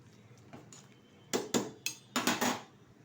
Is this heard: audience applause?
no